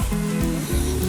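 Round tomato slices dropped into a hot Karachi-style orange biryani pot, giving a loud close sizzle and hiss in a short burst.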